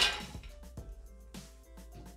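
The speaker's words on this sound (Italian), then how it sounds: "Iniziamo la ricetta mettendo all'interno del boccale le mandorle" Almonds drop into a Thermomix blender jug, making a few sharp clinks and rattles in separate bursts with brief ringing, close by and without talk.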